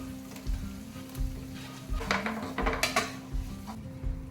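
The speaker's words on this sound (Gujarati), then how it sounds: "હવે એમાં બટાકા નાખી દઈએ." Soft sizzling of potatoes frying with spices in a pan, with intermittent clinks and scrapes of a spoon against metal, fairly quiet and close.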